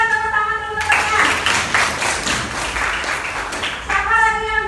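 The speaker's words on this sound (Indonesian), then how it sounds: "Ayo berikan tepuk tangan dulu Tian." Students clapping in a classroom, a steady round of applause lasting a few seconds with a tonal sound just before and after it.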